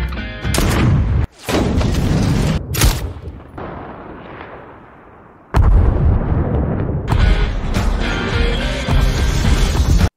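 Heavy booming blasts and crackling bursts from explosives detonating over a wide radius, several loud detonations in sequence with rumbling tails, no talking.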